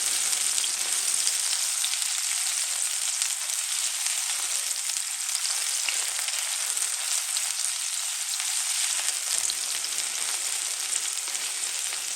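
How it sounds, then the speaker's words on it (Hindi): Chickpea chaat ingredients fry in a little oil until light brown, giving a steady, close hiss and crackle of sizzling that runs without a break, with no voices over it. "इसको भून लेते हैं, ब्राउन लाइट ब्राउन कर देते हैं"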